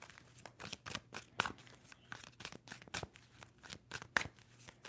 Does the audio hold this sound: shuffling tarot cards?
yes